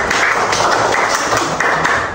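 A group of students in a classroom applauds, a dense steady wash of clapping without a break and with little voice over it.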